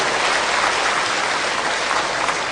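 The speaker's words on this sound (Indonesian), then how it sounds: "Yuk kita bergembira, tepuk tangan untuk teman-teman Kiai Kanjeng." Dense, steady audience applause for the Kiai Kanjeng musicians at a religious talk, a loud continuous wash of many hands clapping with no voices on top.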